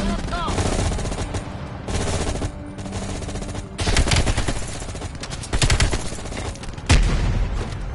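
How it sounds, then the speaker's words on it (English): Rapid gunfire in the Call of Duty Cold War campaign, with a pistol in use: loud bursts of repeated shots in clustered volleys, with sharp cracks and a heavy boom near the end, and no talking. "I have to use the pistol now."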